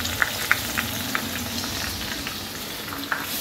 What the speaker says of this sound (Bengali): আগে এটাকে একটুখানি ভাজা ভাজা মতো হালকা করে শুকনো করে কষিয়ে নেব